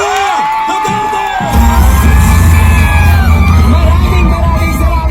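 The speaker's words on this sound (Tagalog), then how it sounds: "Labungin ng mainit na palakpak at sigawan, Vice President Sara Duterte!" A large outdoor political rally crowd roars and cheers for Vice President Sara Duterte in Tondo, Manila, a loud sustained wall of yelling and whooping that swells in after an amplified announcer's voice.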